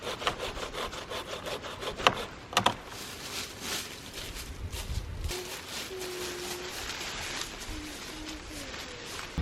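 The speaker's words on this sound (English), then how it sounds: "I'll just make one cut up here and move it out of the way." A hand saw cutting through a fallen tree on a mountain trail gives a steady rasping that runs throughout the clip, with a few sharper knocks early on. Faint outdoor background sits underneath.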